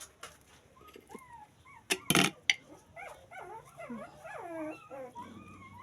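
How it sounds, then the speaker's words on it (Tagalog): Several puppies yip, whimper and bark in a quick, overlapping jumble, high-pitched and fairly close, with short sharp yelps mixed into the whining. "Yung mga tuta nag-aanuhan."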